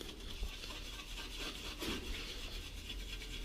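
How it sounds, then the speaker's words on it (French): Steel wool rubbed lightly over the painted surface of a Peugeot 103 moped, a steady soft scratchy rasp running continuously at close range with no talking. "je vais y aller avec de la paille de fer, léger, léger"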